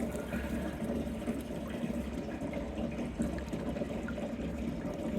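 Water runs steadily from a barrel set out for birds, a continuous close trickle and splash with no pauses or voices.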